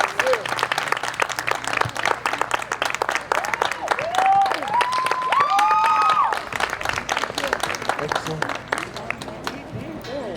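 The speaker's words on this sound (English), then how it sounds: "Can we give him another round of applause?" An audience applauds a singer after a song about change at a Black History Month gathering, with steady clapping running throughout, a brief sung or whooping voice rising over it midway, and faint talk underneath.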